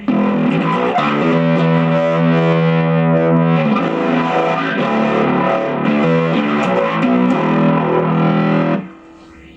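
Gritty bass guitar riff through a Zoom B2, with a swirling phaser placed before the overdrive, several sustained notes close up, then stopping abruptly.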